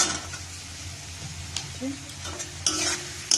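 Green peas fry in a pan for veg dal, a soft steady sizzle with a few stirring scrapes and knocks up close, over a low kitchen hum.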